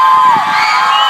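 Fans at a K-pop fan meeting in Singapore scream and cheer loudly as one dense, high-pitched crowd roar, with piercing shrieks rising above it throughout.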